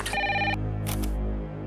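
A household telephone rings loudly indoors in short bursts of bright electronic tone, over a steady low hum.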